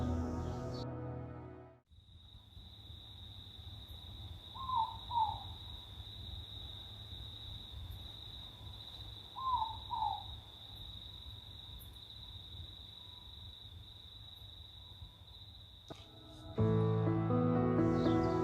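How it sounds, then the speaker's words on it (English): Morepork owl calling at night in Katikati, New Zealand, two short double hoots spaced apart, faint and distant over a steady high insect drone and low hum. "if you're lucky, you might even hear a morepork"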